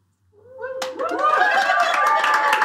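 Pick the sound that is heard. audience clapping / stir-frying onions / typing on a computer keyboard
audience clapping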